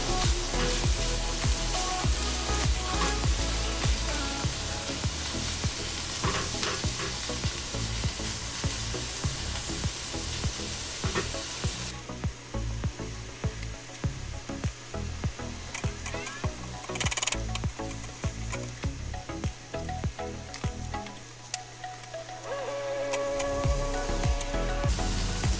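Chili powder, chilies and garlic fry in a cast iron pan with a continuous crackling sizzle. Scattered scrapes and clicks break through now and then, and the hiss thins out partway through.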